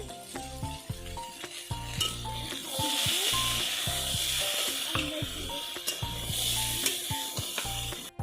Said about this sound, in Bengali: এখানে গাজর আর মটরশুঁটি দেওয়া হচ্ছে, ভালো করে এগুলো ভেজে নেব